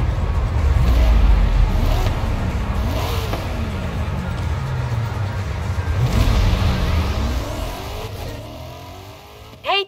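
A Corvette engine in Forza Horizon 5 revs hard and close, climbing through several gear shifts with rising and falling pitch and a steady loud drone throughout.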